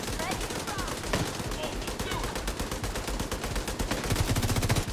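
Rapid dense gunfire in the shooter game The Division 2, with sniper and automatic weapons firing in continuous overlapping bursts, loud and close throughout a hectic firefight.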